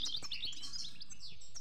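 Pet goldfinch chirping in a quick series of thin, high tweets and short trills, close and fairly quiet, with no one talking.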